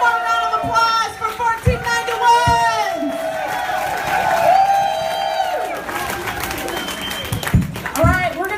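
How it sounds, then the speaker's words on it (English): Audience at a community gathering with workshops applauding and cheering for several seconds, clapping mixed with shouts and whoops. Children's voices and crowd chatter run through it. "One more round of applause for"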